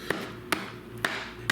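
Four sharp knife chops cut the bruised end off a rack of ribs on a board, evenly spaced and close, with quiet room hiss between strikes.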